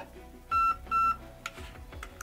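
Two electronic beeps from a Zion Arms / R&D Precision PW9 Mod.1 airsoft gun as burst mode is selected; clear steady tones close by, followed by soft mechanical clicks and handling noise.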